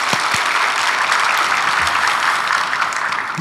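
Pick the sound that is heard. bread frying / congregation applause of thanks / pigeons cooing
congregation applause of thanks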